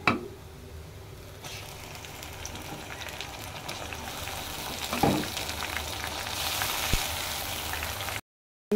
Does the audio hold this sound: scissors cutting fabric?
no